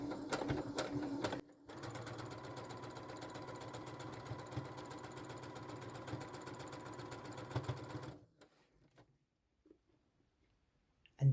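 A sewing machine stitches a line through broderie anglaise fabric with a fast, steady mechanical whirr and clicking that runs for several seconds, then stops, leaving near silence.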